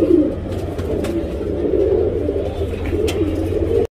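Steady low cooing and soft calls from a Chini breed male pigeon, a second-moult cock, fill the clip continuously at close range over a busy background with occasional faint chirps and clicks.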